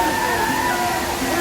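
Thirparappu waterfalls in Kerala give a steady rush of falling water under a person talking nearby.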